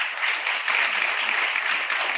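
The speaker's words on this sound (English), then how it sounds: "So let's give all of them together a big round of applause." Steady, dense applause from an audience at a Kid Governor inauguration ceremony, honoring the newly introduced cabinet; continuous hand clapping fills the whole stretch with no voices on top.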